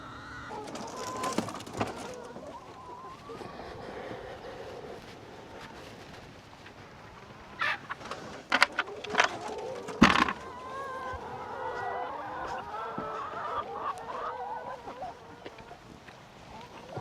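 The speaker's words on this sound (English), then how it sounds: "the chickens have done their job on the pumpkins" Chickens clucking and squawking while pecking at pumpkins, with scattered bird calls and a few sharper bursts partway through over a steady outdoor background.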